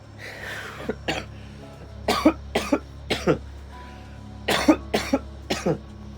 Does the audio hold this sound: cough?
yes